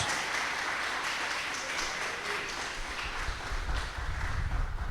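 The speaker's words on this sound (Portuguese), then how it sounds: "Uma salva de palmas para o Rei da Glória" Sustained applause from a church congregation during a women's worship service, steady dense clapping filling the whole stretch with some low rumble and faint voices underneath.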